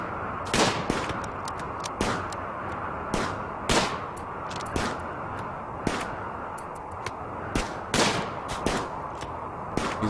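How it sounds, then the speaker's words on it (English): Gunfire exchange in the video game RimWorld: sharp single shots crack out at irregular intervals, a dozen or so reports over a constant hissing backdrop. "And he's shooting back."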